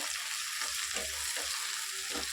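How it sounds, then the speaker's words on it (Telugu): Chicken liver sizzling in a hot pan, a dense, even frying hiss with faint scraping stirs underneath, steady throughout. "ఒకసారి ఫ్రై చేసుకుందాం"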